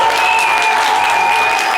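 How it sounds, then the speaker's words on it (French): An audience claps in a short burst of steady applause while a sustained tone plays over it, loud and close throughout the brief moment. "Applaudissez pour elle, Fanta, c'est Congo."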